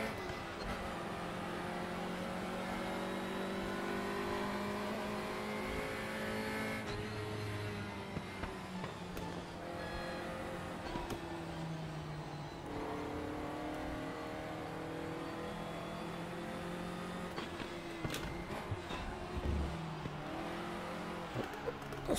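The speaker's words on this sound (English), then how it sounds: "So it's a full manual car for a start." A full manual race car engine revs and accelerates on track, rising and falling through repeated gear changes, with a loud, close whine climbing and dropping for over twenty seconds.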